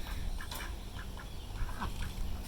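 Ducks at a duck ranch, several short nasal quacks scattered over a steady outdoor background, faint and fairly distant.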